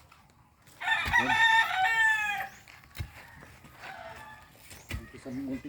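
A rooster crows loudly and nearby in a small chicken coop while hens cluck intermittently, and someone speaks briefly over the birds.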